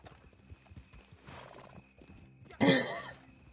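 In the video game Red Dead Online, soft horse hoofbeats are followed late by a loud, close whinny that dominates the final second.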